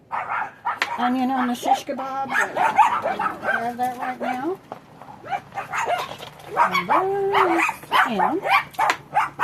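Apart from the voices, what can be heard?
excited dogs barking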